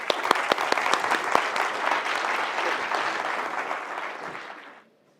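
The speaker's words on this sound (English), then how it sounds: "Everyone, a round of applause." Audience applause fills a hall at an AI awards ceremony, a few sharp individual claps at the start swelling into a dense, even ovation that holds steady, then fades out near the end.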